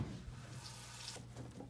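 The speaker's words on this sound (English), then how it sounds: "I'm gonna take my asparagus and I'm gonna give it a nice little rinse." Tap water runs steadily into a sink as asparagus is rinsed underneath, a continuous close splash with faint drips and light knocks near the end.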